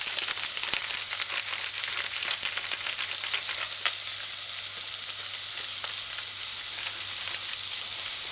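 Fish fillet and mixed vegetable stew with scotch bonnet and dried herbs sizzling in a pan on the stove while being stirred, a continuous close hiss with scattered crackles and faint scraping, no talking.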